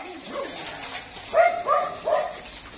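Several dogs at a dog farm, including pregnant German Shepherds, let out a few short barks and whimpers in close succession, fairly near, over a quiet background.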